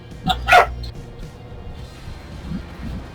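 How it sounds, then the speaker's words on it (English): A happy blue heeler puppy in Farming Simulator 22 gives a couple of quick, fairly close barks, followed by quieter low rumbling ambience. "He's got a happy puppy."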